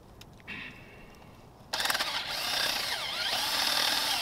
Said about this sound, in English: Run the drill back and forth.